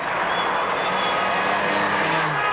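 Steady aircraft-like rotor and engine drone from a helicopter flying over a 1996 Vuelta a España cycle race, a continuous loud wash of broadband noise without clear voices.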